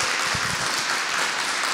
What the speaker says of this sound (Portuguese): Aplauda Jesus então bem forte